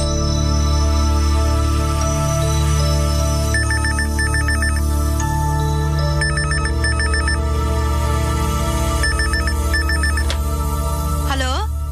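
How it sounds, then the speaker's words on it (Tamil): A telephone rings in a household scene from a Tamil TV drama, its repeated electronic ringtone bursts sounding loudly over a sustained music background. "உங்க அக்காவுக்கு போன் வந்திருக்கு"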